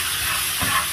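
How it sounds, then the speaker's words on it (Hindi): Curd is stirred into a cooking snack mixture in a pan, a steady close scraping and sizzling hiss running the whole moment, swelling slightly near the end, with no voices. "अब ये हो रहा है मिक्स"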